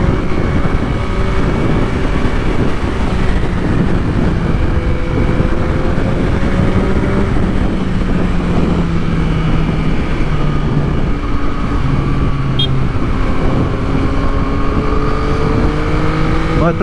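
A Yamaha MT-09 motorcycle engine pulling hard on a highway, steady loud roar from onboard with rising revs and brief quick-shift dips as gears change, wind noise throughout.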